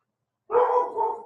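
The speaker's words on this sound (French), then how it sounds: "ce n'est pas le facteur qui fait japper mon chien certain" A single dog barks once near by, a short loud bow-wow that tails off, after a moment of silence.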